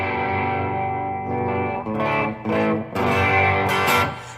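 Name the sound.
ESP James Hetfield electric guitar played on bridge pickup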